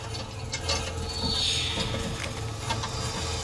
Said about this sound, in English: Charging on my shields.